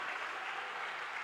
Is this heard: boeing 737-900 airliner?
no